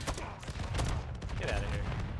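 Rapid bursts of gunfire and fusillades from a Lethal Company multiplayer match, loud and dense across the whole moment, with voices calling out over the shooting.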